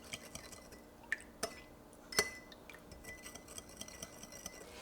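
A utensil stirs rice vinegar, brown sugar and sweet-and-sour sauce in a dish, making quiet scrapes and a few sharp clinks against the container, soft and close.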